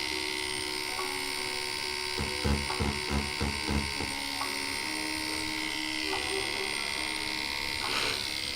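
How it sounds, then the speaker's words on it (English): A proper tattoo machine buzzing steadily at close range, with a run of rhythmic louder pulses partway through as it works on paper. "This is a tattoo machine. This is like a proper tattoo machine."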